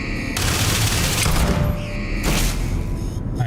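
Rapid bursts of gunfire from companion Sarah's weapon in Starfield crack out in quick, loud volleys, with booming impacts and a short mechanical clatter between the shots.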